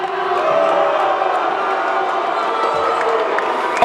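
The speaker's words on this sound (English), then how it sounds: "I saw a lot of people cheering, a lot of hooting and hollering" A crowd at a boxing press conference for Ryan Garcia versus Rolly Romero cheers and hollers steadily, a loud, dense wash of voices that holds for several seconds with a sharper shout at the end.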